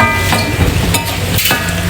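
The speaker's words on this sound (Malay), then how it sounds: "Biar aku goreng ni dalam sikit" Steady sizzling and crackling of anchovies frying in hot oil, dense and continuous throughout, with occasional stirring noises close by.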